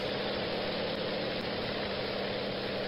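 Piston engines of a Lockheed L-049 Constellation airliner run in a steady, dense exhaust roar with a low rumbling drone, loud and continuous throughout with no voices.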